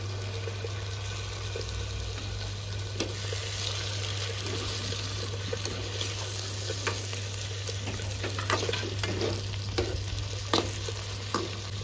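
Sliced onion and finely chopped tomatoes frying in a pan for a mango dal and drumstick curry, a constant close sizzle with scattered stirring clicks and a steady low hum underneath, no voices.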